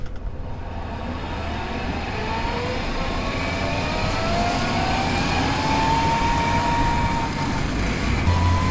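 A diesel-powered golf cart drives down a street, its engine a steady droning hum with a slowly rising whine as it picks up speed, fairly close and continuous throughout.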